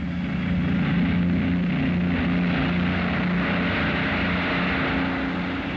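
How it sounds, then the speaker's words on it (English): Military transport aircraft taking off in a 1944 World War II newsreel: a loud, continuous propeller-engine roar with a low droning hum, steady throughout and with no talk over it. "From many airfields, the huge transports take off."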